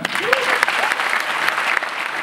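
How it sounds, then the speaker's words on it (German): Steady applause from a crowd, dense clapping throughout with a faint voice or whistle rising briefly near the start. "Applaus für unseren ersten Starter"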